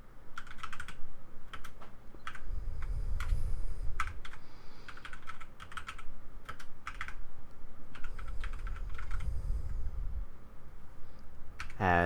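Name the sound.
typing a command on a computer keyboard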